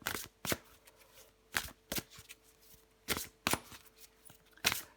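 Tarot cards being shuffled in a quiet room: a series of crisp riffling bursts arriving in short irregular groups, close and fairly soft, with no talking.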